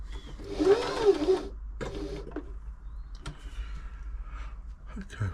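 A Janome 525s sewing machine runs a stretch stitch, a steady mechanical whir under a man's speech, with a brief louder burst of running near the start and some clicks and knocks afterward.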